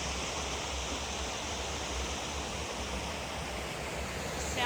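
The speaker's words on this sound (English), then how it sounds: "The sound of that creek." A creek flowing among tall redwoods rushes in a steady, close, broadband wash of water that holds constant throughout, with no voices.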